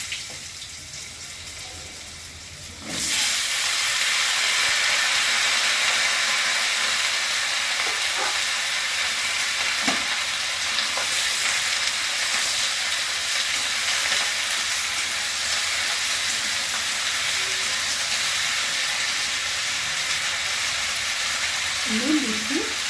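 Papaya pieces hitting hot oil already spiced with dry red chilli and mustard seeds, a sudden loud sizzle that starts a few seconds in and keeps up as a steady, dense frying hiss with faint clatters over it.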